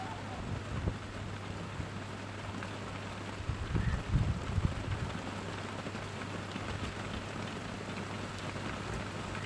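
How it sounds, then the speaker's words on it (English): Heavy rain pours down steadily outdoors in Scotland, a dense continuous hiss with a low steady hum beneath and a brief louder patch of drumming near the middle. "Oh, it's coming down really heavy now, this rain."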